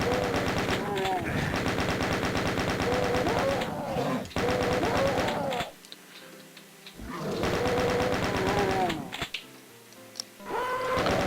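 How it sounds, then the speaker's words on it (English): A chain gun fires in rapid sustained bursts in the video game Doom 2, loud rattling volleys separated by brief pauses with game ambience, and a voice occasionally heard underneath. "Actually, let's do chain gun. Chain gun might be good."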